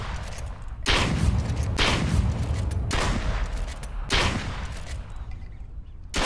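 Gunshots in the video game Duck Season: four loud blasts land about a second apart, each followed by a long booming decay that fills the gaps between them.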